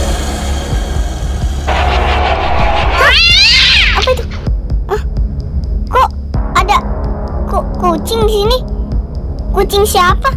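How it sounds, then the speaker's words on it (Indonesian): A cat in Sakura School Simulator meows repeatedly, some calls drawn out and wavering, over a low steady hum and rumble, close and fairly loud. "Kucing siapa ini?"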